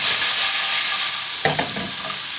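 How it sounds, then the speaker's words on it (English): Roasted cashews sizzle in a pan while cooking a British Indian restaurant-style chicken korma, a loud continuous frying hiss with a few stirring scrapes near the end. "So let's sizzle that off."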